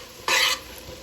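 Potatoes and leeks stirred in hot bacon grease, a single brief hissing, scraping sizzle that rises sharply and then fades.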